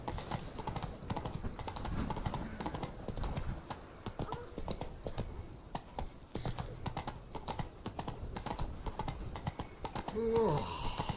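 Geralt's horse Roach galloping in The Witcher video game, a rapid rhythmic clip-clop of hooves close by, with a brief whinny near the end and no speech.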